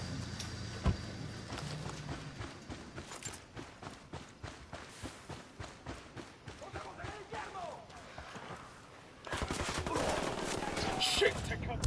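A video game gunfire volley rings out as a steady rhythm of repeated shots over several seconds, followed by a louder burst of noise near the end, with voices talking over it.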